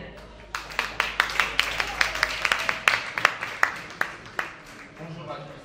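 Scattered applause from a conference audience, distinct individual claps in a loose rhythm, moderately close, with talk faintly underneath.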